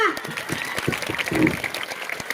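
Audience applause for the writer and director of a Marathi comedy skit, a steady patter of clapping lasting a couple of seconds beneath a voice still speaking.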